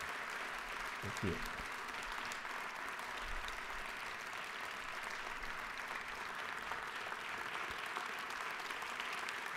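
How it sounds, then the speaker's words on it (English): An audience in the Georgia Assembly chamber gives sustained applause during a farewell speech, a dense, even wash of clapping throughout, with a brief spoken thanks near the start. "So will y'all give them a round of applause?"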